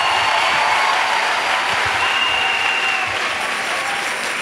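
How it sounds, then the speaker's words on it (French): Church congregation applauding at a religious gathering, a loud, steady wash of clapping from many hands that fades slightly toward the end, with no speech over it. "Acclamons pour Jésus-Christ."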